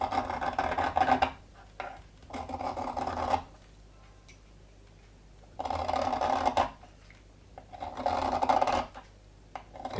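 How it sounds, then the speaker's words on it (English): Shavings scraped gently off a hexamine solid fuel block with a blade for firelighting, heard as close, dry rasping strokes in several bursts separated by quiet pauses. "is to very gently scrape a small pile of shavings off of here"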